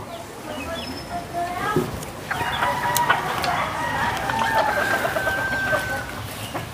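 Backyard chickens clucking around a feeding area while a rooster crows nearby, steady flock chatter with a drawn-out crow in the middle, under some background voices.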